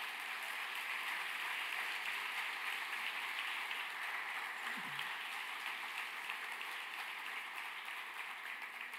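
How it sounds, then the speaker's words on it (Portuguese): A church congregation at a communion service applauds, a faint, distant and steady wash of many hands clapping that holds evenly throughout. "Vamos dar um forte aplauso ao Senhor."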